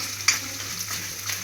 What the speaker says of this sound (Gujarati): હવે આપણે આ લીમડાના પાન નાખશું